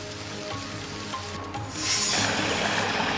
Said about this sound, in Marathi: सिंधुदुर्ग जिल्ह्यात 4 दिवसांच्या विश्रांतीनंतर पावसानं दमदार हजेरी लावली